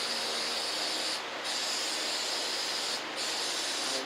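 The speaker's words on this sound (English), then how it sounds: "Next step is to spray some of this cleaner onto a clean cloth." Automotive cleaner sprayed from a spray can onto a clean cloth during motor mount repair: two long, steady hissing bursts separated by short pauses, close and fairly soft, with no talking.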